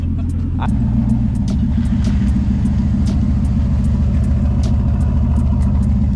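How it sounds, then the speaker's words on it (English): A 1999–2004 Chevrolet Silverado pickup idles close by with a loud, steady, deep exhaust rumble through its muffler, continuous throughout, with faint ticks above it. "Oh, there's that muffler"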